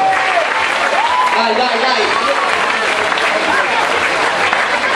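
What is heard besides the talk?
crowd applause for the Canton Balin player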